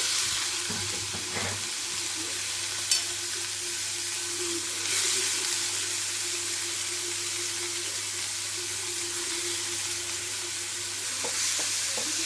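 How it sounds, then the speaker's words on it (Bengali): Oyster mushrooms frying over high flame in a little refined oil in a frying pan, a soft continuous sizzle with a low steady hum beneath and a few faint clinks and stirring scrapes, no voices. "রিফাইন তেলটা দিয়ে দিলাম অল্প করে। এবারে এর মধ্যে মাশরুমগুলো দিয়ে দেবো।"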